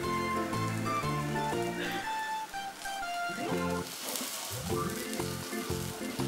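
Egg-in-bread frying in butter over a slow flame, giving a steady close sizzle throughout, with music playing over it.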